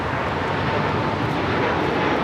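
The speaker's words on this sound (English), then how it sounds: "801 taking off to Hong Kong on the 787-9 Dreamliner" A United Airlines Boeing 787-9 Dreamliner taking off from LAX for Hong Kong produces a loud, broad, continuous engine roar that fills the air evenly, heard without speech.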